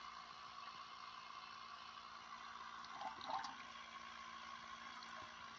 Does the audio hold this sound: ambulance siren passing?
no